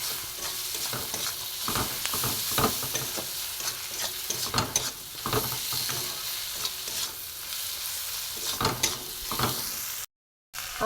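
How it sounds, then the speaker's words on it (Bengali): Spice masala with jackfruit and prawns sizzles in a pan while a spoon stirs it in repeated scraping strokes, ending with a short silence. "আর একটু আমি নুন দিয়ে দেবো, দিয়ে একটু ভালো করে মশলাটা কষিয়ে নেবো"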